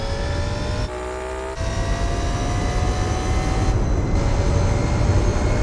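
Jaguar V16 race car in Gran Turismo 4 driving at speed, a loud steady engine drone with whining tonal harmonics and tyre roar, briefly dipping around a gear change before rising again.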